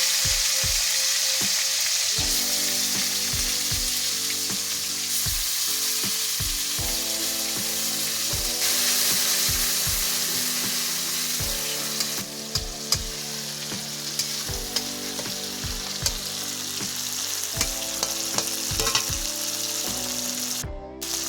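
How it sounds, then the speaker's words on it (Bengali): Tomatoes frying in hot mustard oil with nigella seeds in a karai wok: a steady, hissing sizzle runs throughout beneath a sustained tonal background, with occasional soft clicks and no speech. "টমেটোগুলো কড়াইতে ছেড়ে দেওয়া হলো।"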